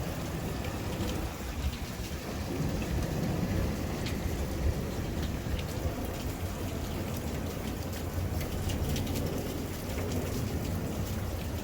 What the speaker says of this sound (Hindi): अब कितनी बारिश हो रही है।